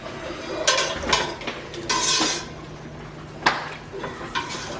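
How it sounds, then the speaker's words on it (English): A metal ladle cuts and stirs cheese curds in a pot, making wet sloshing, irregular scrapes and clinks against the pot, close and moderately loud. "So just using my ladle to cut some of those bigger curds, like that giant guy right there."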